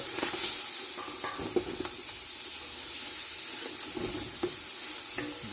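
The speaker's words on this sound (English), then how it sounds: "you get a spatula and a spoon and you mush it around and break it like this" Bacon frying in a pot for copycat Zuppa Toscana sizzles steadily while a spatula and spoon scrape and break it up, with irregular clinks and scrapes over the constant crackle, close and fairly loud.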